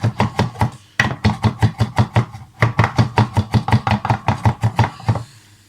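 Rapid knife chopping of garlic on a board for garlic sauce, a steady train of sharp close knocks in three quick bursts with short pauses between them.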